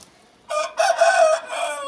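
A rooster crows once, close and loud, in a long drawn-out call broken into several bursts after a brief quiet pause.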